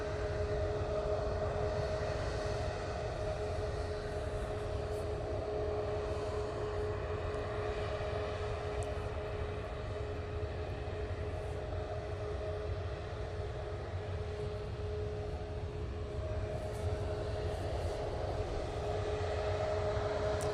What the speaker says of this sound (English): Ryanair will be next out using a 737 and MAX 8.